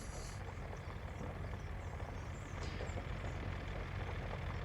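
A heavy oil truck engine in the video game Workers and Resources drones and strains steadily at low speed on a mud road, a continuous low rumble with no speech.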